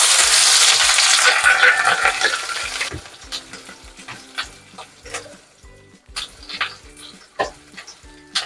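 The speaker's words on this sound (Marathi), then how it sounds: "इथं तेल तापलं आहे इथं मोहरी टाकायची आहे" Mustard seeds and chili crackling in hot oil for an onion-chili dish, a loud steady sizzle at first that drops away into scattered sharp pops and spatters.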